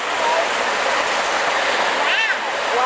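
A waterfall on the Holly Lake Ranch trail makes a continuous broad rush of water, fairly loud and steady, with faint chirping calls briefly rising above it.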